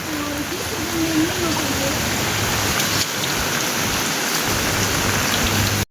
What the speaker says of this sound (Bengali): আজকে বৃষ্টির দিন